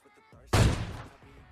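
A single loud gunshot from a headshot in PUBG Mobile Lite cracks out sharply and decays over a fraction of a second, with faint game background sound before and after.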